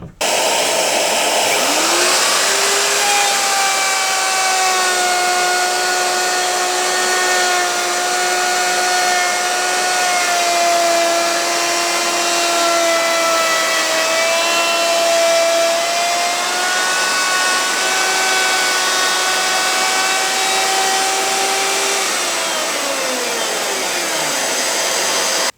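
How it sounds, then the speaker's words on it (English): A wood router runs steadily with a dust extractor connected, a loud continuous motor whine with a pitch that drops at start and sags slightly under load while cutting, then winds down near the end, with no voices. "I've got the dust extractor hooked up to this router so I don't have chips going"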